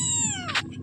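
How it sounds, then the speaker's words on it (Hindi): A pet cat gives a short, close meow that falls in pitch, over a low background rumble. "म्याँ म्याँ करती है वो बिल्ली"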